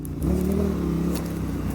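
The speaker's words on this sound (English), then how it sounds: "thundering roar from the open flowing acro exhaust" An Indian FTR1200 S motorcycle with an open-flowing Akrapovič exhaust roars steadily while being ridden, a close, loud, throaty engine note rising slightly then holding, with no talking.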